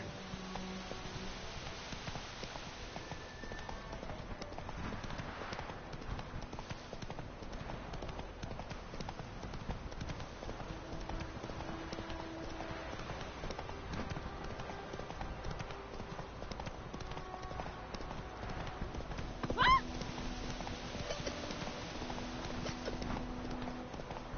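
Horse hooves in The Witcher 3 clip-clop steadily at a walking-to-trotting pace, close and continuous, with game ambience and occasional faint rustle behind them.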